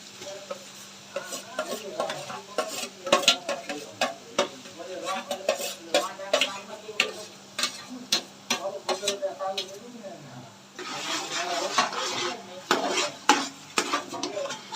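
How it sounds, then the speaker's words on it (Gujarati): A spoon scrapes and clinks repeatedly against a pan as a garlic and onion tempering in oil is stirred, the rhythmic strokes close and fairly quiet over a faint sizzle. "લસણ ડુંગળીનો વઘાર થઈ ગયો છે"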